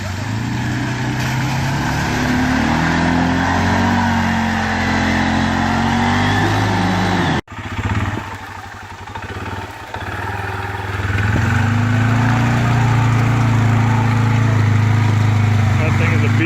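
A four-wheeler ATV engine drones and revs hard through a mud pit, steady and loud, cutting out briefly midway before climbing back to a sustained growl; a voice talks over it.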